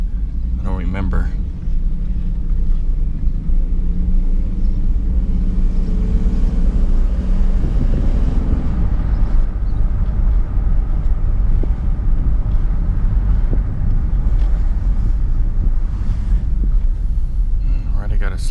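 Steady low engine rumble from inside a car driving slowly down a residential street where children are out, loud and continuous throughout, with someone talking over the drone.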